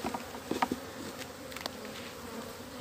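A honeybee swarm at an opened hive being prepared for honey production hums in a faint, steady drone, with a few louder buzzes as single bees pass close.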